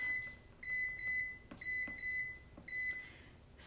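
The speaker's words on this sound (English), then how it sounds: "Let's heat up the air fryer. I'm going to heat it up to 390 degrees, and we'll just run it for 5 minutes." An air fryer gives a series of short, high electronic beeps in quick groups as it is set to preheat to 390 degrees, close and clear in a quiet room.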